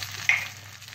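Beaten egg frying in a pan for a layered omelette gives a soft, steady sizzle with a brief louder hiss as it hits the hot surface, close and alone without talk.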